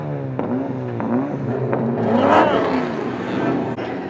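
Mazda Miata drift car engine revving at an event, a steady, loud engine drone with rising and falling pitch that swells near the middle, with faint voices beneath.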